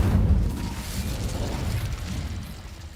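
A deep, rumbling burst from the Incendio fire spell in Hogwarts Legacy, booming loudly at first and then sustaining as a low whooshing roar that slowly fades over a few seconds.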